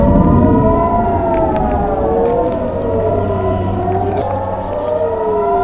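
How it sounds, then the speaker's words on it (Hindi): Several air raid sirens in northern Israel wail loudly at once during a rocket attack, their long tones slowly rising and falling and overlapping without a break. "हवाई हमलों से सायरन बज उठे थे"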